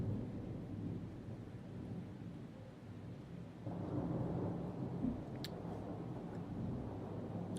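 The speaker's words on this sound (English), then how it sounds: "I can play rain sound effects." Steady rain recording with rumbling thunder, a broadband wash of falling rain that swells louder partway through, with a few faint sharp patters on top.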